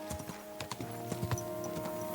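Steady clip-clop of horse hooves at a trotting rhythm in the video game Kingdom Come: Deliverance II, close and clear, with faint ambient background and no voices.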